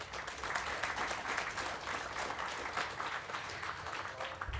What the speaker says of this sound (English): I'd like a round of applause for our panellists